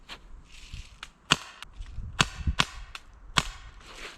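An Umarex Steel Force BB gun fires in semi-auto outdoors in snow, giving a series of sharp, snappy pops at irregular intervals, some louder than others, with faint clicks and rustle between shots.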